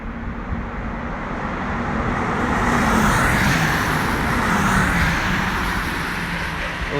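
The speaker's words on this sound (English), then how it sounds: "I think I can hear the cars coming back down again here" Honda Civic Type R cars drive past on a race track, a broad, steady roar of engines and tyre noise building and holding, heard from trackside at a moderate distance.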